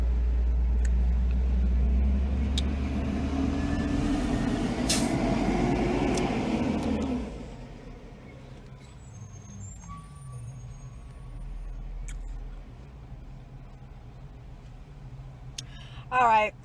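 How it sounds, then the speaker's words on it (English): A garbage truck idles and rumbles nearby, a loud low engine drone that fades after several seconds, followed by a thin steady tone suggesting reversing beeps and faint hisses, with a brief bit of speech at the very end. "Trash truck."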